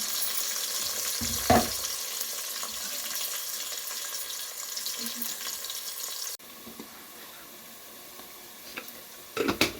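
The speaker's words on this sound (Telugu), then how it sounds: "ఉల్లిగడ్డ వేస్తున్నానండి" Chopped onions sizzling in a pan, a steady frying hiss with a couple of sharp stirring clatters near the start and end, fairly quiet and close.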